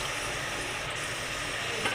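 Water poured into a hot, empty wok on a gas stove gives a steady, faint sizzle and hiss that holds evenly for the whole moment, with no talking.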